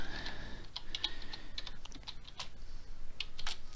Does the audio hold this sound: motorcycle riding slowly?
no